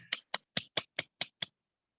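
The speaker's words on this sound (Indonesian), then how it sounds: "tepuk tangan dong buat kita semua" Hands clap seven times in an even, brisk rhythm at a science competition final, each clap sharp and close, then silence follows.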